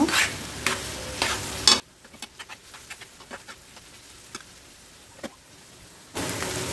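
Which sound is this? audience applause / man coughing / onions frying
onions frying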